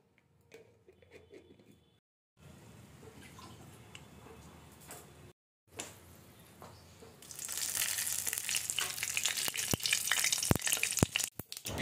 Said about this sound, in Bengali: এরপর কড়াইতে অল্প করে সর্ষের তেল দিয়ে তার মধ্যে গোটা সাদা সর্ষে আর শুকনো লঙ্কা আমি দিয়ে দিলাম।